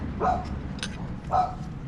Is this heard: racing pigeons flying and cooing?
no